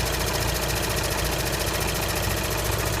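A 2013 VW Passat TDI with a manual transmission runs steadily, its diesel idle a constant, dense drone close up, with a transmission clicking noise blended into the engine sound.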